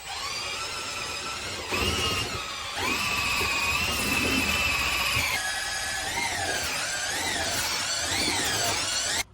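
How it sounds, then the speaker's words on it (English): An overheating, smoking power drill whines and strains, its pitch wavering and dipping repeatedly as the motor labors under load, loud and close. "Oh, my drill's burning up."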